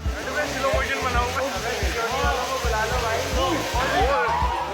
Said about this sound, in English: The next it's indoor waterfall chaos.